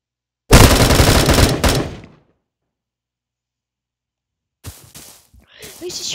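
Bullet Force video game gunfire: a loud, rapid automatic burst of about a second and a half, then silence, then a few fainter shots and game noises, with no talk over them.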